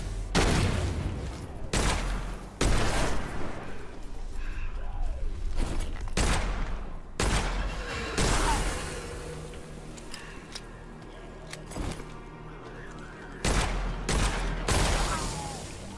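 Gunfire in the video game Witchfire comes as loud, punchy bursts of shots spaced through the stretch, with booming reports and brief pauses between volleys and no talking over them.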